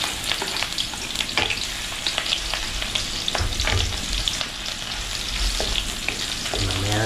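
Eggs fry in hot cooking oil, a steady dense crackle and spatter running close and loud throughout, with occasional stirring clatter and no voices.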